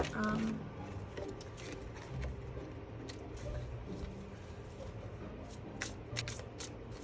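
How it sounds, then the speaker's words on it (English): A new Halloween tarot deck is side-shuffled over and over in quick riffling bursts, close and fairly quiet, with a low hum underneath. "So I'm just gonna side shuffle like this."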